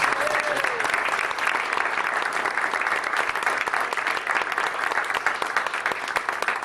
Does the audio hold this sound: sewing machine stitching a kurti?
no